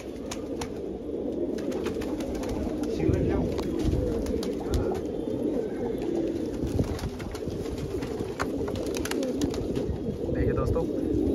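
A large flock of pigeons coos in a dense, continuous low murmur, heard close and steady throughout, with occasional sharp clicks and wing flutters and a voice speaking over it at times.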